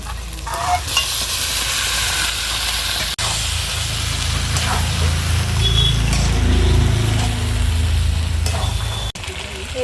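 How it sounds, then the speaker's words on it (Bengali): Fried meat is added to a spicy masala for a chicken and cauliflower curry, and the pan sizzles loudly and steadily with stirring scrapes throughout, close by and without talk. "এবার মাংস ভাজাটা দিয়ে দেবো"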